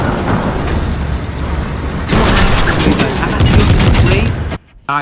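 Dense, loud gunfire in the Fortnite video game, with rapid bursts of shots and booms running almost continuously before cutting off abruptly near the end.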